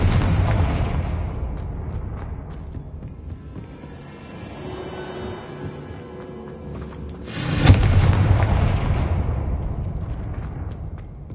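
A Confringo spell blast in the video game Hogwarts Legacy hits as a deep, booming explosion late in the clip, after a long rumbling swell, loud and alone with no talk.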